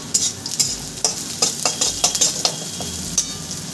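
Onion and garlic fry in a tempering pan for a red lentil dal with Malabar spinach, a bright crackling sizzle under quick, repeated stirring clicks and scrapes, close and busy throughout.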